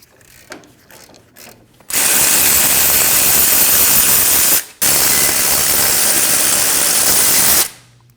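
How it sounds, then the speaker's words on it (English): A ratchet on a 21mm socket breaks the front brake caliper bracket bolts free on a 2012-2022 Volkswagen Passat, two loud sustained bursts of rapid clicking separated by a brief pause, close and alone after faint quiet handling. "Using a 21mm socket, remove the 2 caliper bracket bolts."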